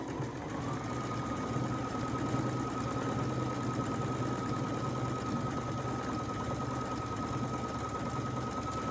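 A Brother Essence VM5200 sewing machine stitches continuously with a steady mechanical hum, a constant whining tone and a rapid, even needle rhythm, running alone at close range.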